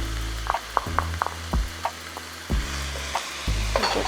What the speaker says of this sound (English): And I'll add the vegetables now, the green onion, the celery.